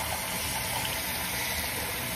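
Hot water sprayed from a hose onto a dirty inflatable hot tub filter cartridge, between its pleats, a steady close hiss of spray and splashing water with no talking.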